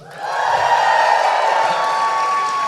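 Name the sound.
studio audience cheering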